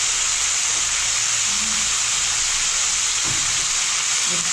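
Kashmiri chili powder sizzles in hot oil for mung dal, a steady, close, bright hiss that runs throughout, with a few faint soft knocks underneath.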